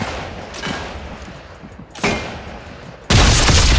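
Gunfire in the video game Sniper Elite Resistance: a muffled shot-like burst around the two-second mark, then a loud, sustained blast of sound filling the last second, set against a steady game ambience with no talk.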